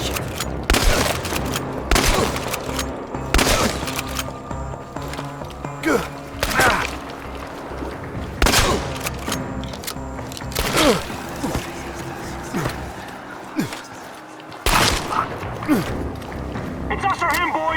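Repeated bursts of gunfire crack through a firefight in the post-apocalyptic shooter Chernobylite, loud, sharp volleys spaced every couple of seconds over a droning ambient bed, with voices talking between the shots.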